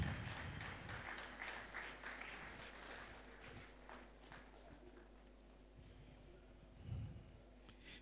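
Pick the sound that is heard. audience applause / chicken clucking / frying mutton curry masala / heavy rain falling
audience applause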